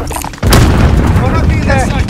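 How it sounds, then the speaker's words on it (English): A frag grenade detonates in Warzone Vanguard, a sudden loud blast after a short quiet lead-in, followed by a sustained rumbling boom and debris that lingers to the end, with faint game chatter in the mix. "Frag on the way."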